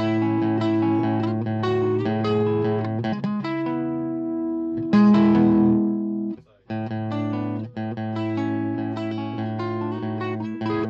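Electric guitar chords played through a Marshall JCM800 2204 amplifier, a string of strummed and ringing chords with gritty overdriven tone, loud and close, with a brief pause before the playing resumes.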